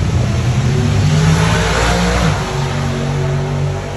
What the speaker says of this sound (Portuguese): Meu, esses pro mode faz barulho, né?